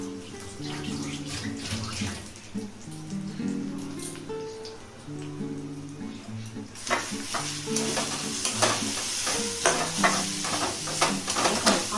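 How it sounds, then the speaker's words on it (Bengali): Banana and lentil paste with spices sautéing in hot oil in a home kitchen, a soft sizzle with spoon stirring and scraping in irregular strokes, quiet and close, under a background hum of music. "তেলের মধ্যে দিয়ে কষিয়ে নেব"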